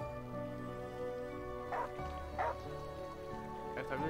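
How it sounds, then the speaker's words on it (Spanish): A dog barks loudly in the video game Undawn, three sharp barks spaced about half a second to a second apart over a steady musical game soundtrack. "pero sigue ladrando tan alto como puede"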